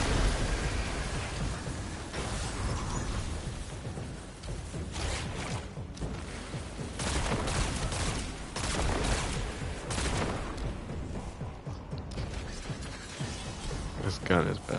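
Dense Destiny 2 weapon fire during the Last Wish raid, steady rapid shots and mechanical clatter running the full length at constant loudness, with a player's voice talking over the battle.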